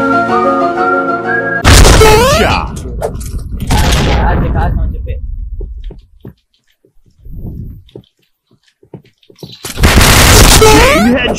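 Grenade explosions in the Point Blank shooter hit as heavy booms with rumbling tails, mixed with game music and voice lines, with one muffled blast between them and another loud burst near the end.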